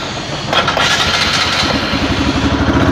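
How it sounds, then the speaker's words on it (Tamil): A motorcycle engine with a liquid-cooled radiator being bled of an air lock starts up and settles into a steady, loud, close idle. "நான் வண்டியை ஸ்டார்ட் பண்ணி ஐட்லிங்கில் விடுறேன்."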